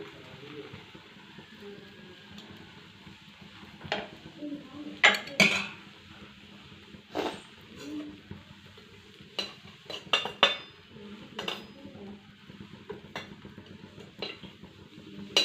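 Masala omelette being made on a hot dosa griddle: a spatula scrapes and clinks against the iron in irregular bursts over a low, faint sizzle, with some quiet talk in a home kitchen.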